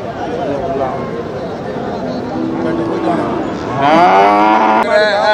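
Kangeyam cattle at the Manapparai cattle market give a long, loud, close moo that swells toward the end, while people chatter around them.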